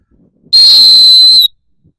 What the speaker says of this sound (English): I want to reach them with my timeout whistle